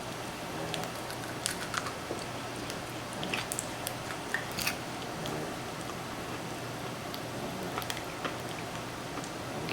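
Crunching bites into the hard, crispy crust of homemade southern fried chicken, with scattered sharp crackles and chewing over faint kitchen background, fairly quiet and close.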